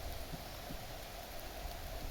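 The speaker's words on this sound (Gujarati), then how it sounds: "ધીમો ધીમો આછો પાતળો પણ વરસાદ આવ્યો છે" Light rain falling as a soft, even hiss with faint scattered drops, low in level and continuous, no voices present.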